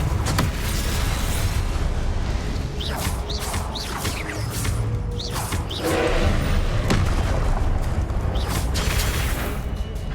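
Confringo blasting spell explosions in Hogwarts Legacy, several thuds and crashing booms with whooshes over a dense, loud game soundscape.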